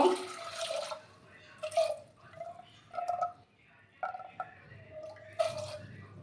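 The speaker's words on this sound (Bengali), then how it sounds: "তারপর আমি সামান্য জল অ্যাড করে দেব।" Water poured into a pressure cooker holding jackfruit seeds, coming as several short splashing and trickling bursts with drips between them, moderately quiet and close, with a faint voice in the background.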